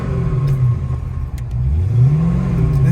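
A 1985 Ford Mustang GT with a twin-turbo 5.0 V8 and six-speed runs steadily close by, with a low engine note that rises in a rev midway, alone without talk.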